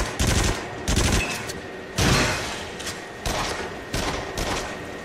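Bursts of loud gunfire in the VR shooter Until Dawn: Rush of Blood, several separate volleys of rapid shots with short pauses between them and no speech.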